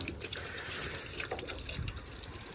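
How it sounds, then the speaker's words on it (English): Water rinses POR 15 rust neutralizer off a part in a faint, steady wash of running, splashing water that carries on throughout. "it says after 20 minutes to rinse it off with water."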